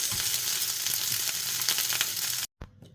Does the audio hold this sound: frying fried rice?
yes